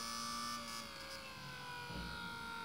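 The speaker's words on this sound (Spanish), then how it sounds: "podéis escuchar como el motor se viene abajo" A Bedini generator prototype's motor hums steadily and then bogs down as a load is switched in, its tone sagging with a low thump near the end; continuous, close and moderately loud, with no talk.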